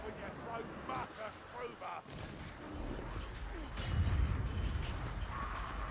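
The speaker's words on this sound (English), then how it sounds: "Shall aim the cannon. Fire, maybe? Yep, it's coming." A cannon fires in a Warhammer video game, a deep booming blast landing near the end under a swell of low rumble, after quieter game sounds and scattered effects.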